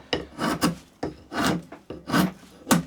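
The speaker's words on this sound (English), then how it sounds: "That is the humble draw knife, and as you can see, it's a very versatile tool" A draw knife shaving jarrah timber gives repeated rasping, scraping strokes, about five in three seconds, close and steady, with no talk.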